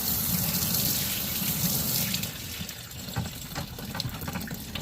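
Running water rinses out a rock tumbler barrel with a steady close gush and splash that eases slightly partway through, with faint clunks of the barrel being handled.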